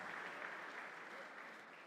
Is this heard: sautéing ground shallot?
no